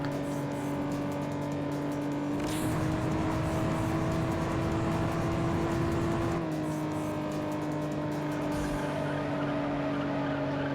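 A Toyota Supra engine in the Juiced racing video game gives a loud, steady drone that shifts in pitch as the car accelerates. Brief tire noise cuts in along the way, and no one speaks.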